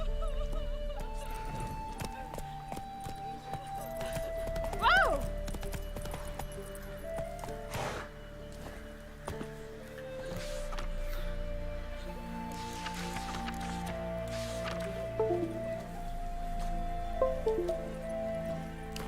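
Roach, a horse in The Witcher 3, gallops with a steady clip-clop of hooves amid rustling ambience, a snort or whinny near the middle, close and continuous.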